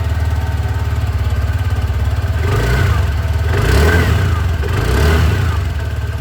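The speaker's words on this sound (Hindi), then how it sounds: "सबसे पहले मैं आप लोगों को यहाँ पर जुपिटर 125 की जो एग्जॉस्ट साउंड है वो यहाँ पर सुनाना चाहूँगा" The exhaust of a TVS Jupiter 125 scooter idles close by in a steady putter, then rises in two short throttle blips before settling back to idle.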